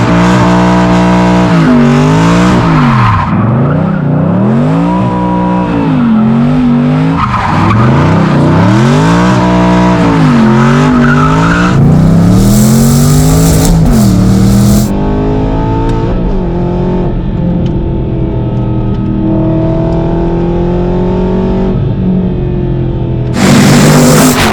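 An Aston Martin V8 Vantage Mansory with traction control off revs hard and swings through sweeping engine pitch rises and falls, with tires squealing and skidding loudly and continuously close by.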